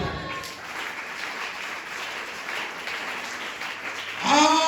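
A church congregation applauding during a deliverance sermon, a sustained wash of many hands clapping throughout, fairly loud and even, with a voice breaking in at the very end.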